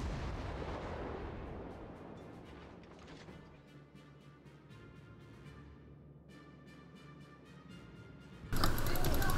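Naval guns firing in the World of Warships video game, opening with a loud booming salvo that rolls off into a long rumbling decay, followed by scattered sharp clicks and a sudden loud burst at the very end.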